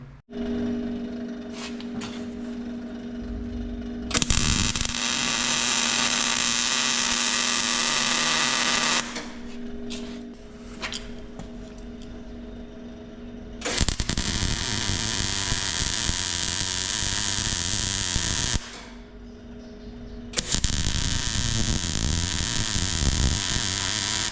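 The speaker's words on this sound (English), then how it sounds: "So we'll just tack that in and then test fit the cab again" MIG tack welding cab mounts on a 1948 Diamond T pickup, three loud steady crackling bursts of several seconds each, separated by quieter humming shop pauses.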